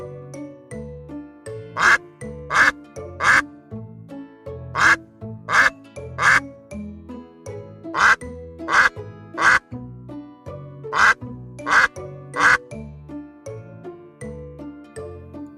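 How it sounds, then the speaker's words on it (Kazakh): Sharp, nasal duck quacks come in quick groups of three, repeated steadily over a soft, sustained musical backdrop. "Бұл үйрек. Үйрек кря-кря-кря-кря-кря-кря, кря-кря-кря-кря-кря-кря дейді."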